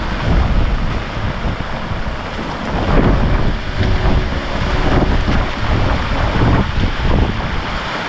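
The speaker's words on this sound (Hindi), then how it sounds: "बारिश भी तेज़ है, हवा भी तेज़ है" Heavy rain and strong wind at a waterfall roar together in a constant, loud wash, with gusts buffeting the microphone and no voices.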